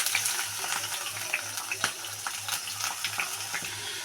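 Carrots and beans sizzle and fry in hot oil in a pan, a steady bubbling crackle with soft stirring scrapes throughout.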